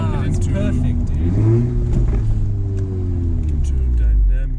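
A 2016 Audi S3 Sportback fitted with a Milltek full exhaust and burble tune revs up with a loud, deep rumbling engine note that rises and falls, swelling twice over several seconds while people talk over it.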